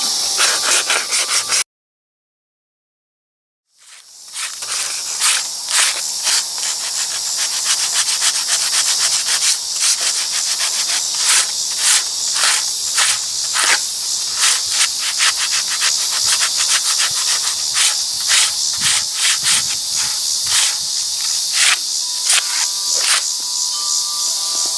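Coarse-grit sanding over a wood rot repair beside brick, a steady loud rasping scrape with rhythmic strokes running continuously after a brief silent gap near the start, with no talking.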